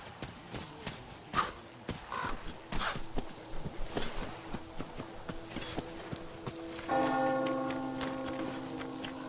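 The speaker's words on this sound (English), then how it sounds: "Hear that bell?" A bell rings out in the video game Metro Exodus, entering partway through as a sustained metallic tone that lingers over earlier rhythmic clopping, knocking footsteps.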